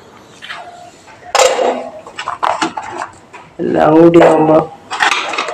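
A spoon scoops a fried potato, carrot and plantain stir-fry into a serving dish, giving scattered metallic clinks and scrapes that come in bursts between stretches of talking.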